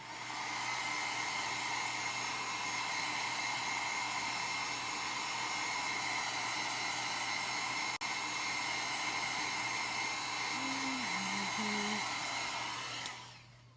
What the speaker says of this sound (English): I'm just going to grab my dryer